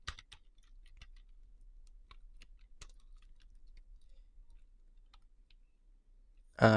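Light, sparse keystrokes tapped on a computer keyboard, quiet and close over near silence, with irregular clicks spread across several seconds and a sudden loud burst of another sound at the very end.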